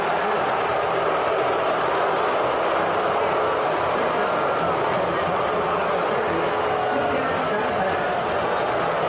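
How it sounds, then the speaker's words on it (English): Large New York stadium crowd booing Donald Trump, a steady, dense roar of boos sustained throughout and holding loud to the end. "the boos just happened again, and Trump stops clapping as they got even louder by the end of the clip"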